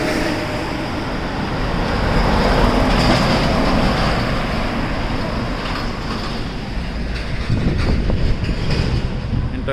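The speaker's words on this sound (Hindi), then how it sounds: "ये हाईवे काफ़ी बिजी रहता है क्योंकि पोर्ट पास में तो ये इतने बड़े बड़े ट्रक्स की मूवमेंट पूरे टाइम होती ही" Big trucks move along a busy highway near a port, making a continuous heavy rumble with rattling passes that swell and fade, close by and with no voices.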